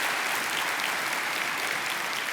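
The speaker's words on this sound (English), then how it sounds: "You can clap for that." Audience applause at a church commemoration service, a dense, steady wash of many hands clapping that holds evenly throughout without any voices over it.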